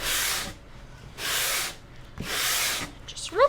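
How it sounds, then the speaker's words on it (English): Three broad, hissy sanding strokes rub across a painted MDF clock board, each lasting about half a second with short pauses between them, close and steady, and a brief vocal sound comes at the very end. "All right, so I'm going to sand it down really quick one time."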